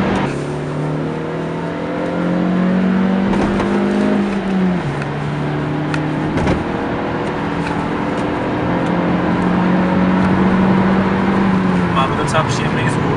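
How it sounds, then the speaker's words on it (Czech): A car's engine hums steadily while driving, with a smooth, even drone that shifts pitch slightly as speed changes, loud and close throughout with a few faint knocks and road noise. "Docela příjemný zvuk, takový hezký, hladký lineár, vůbec není cítit, že by se to auto trápilo."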